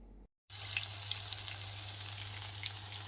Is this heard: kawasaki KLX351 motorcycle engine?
no